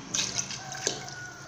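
Water is added to a pot of meat for ogbono soup, a brief, quiet splash and pour with a few small drips and sloshes close by, and no talk.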